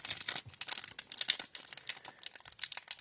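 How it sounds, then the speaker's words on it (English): Red foil wrapper of a 1990 Action Packed football card pack crinkling and tearing open, close and crisp, with continuous rustling bursts and no talk. "Foil wrapper, you know,"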